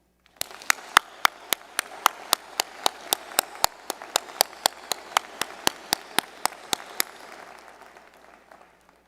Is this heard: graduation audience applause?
yes